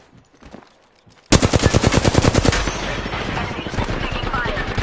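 Rapid automatic gunfire from a video game bursts in loudly after a quiet start, a fast regular stream of shots that fades into a dense, sustained roar of continued firing.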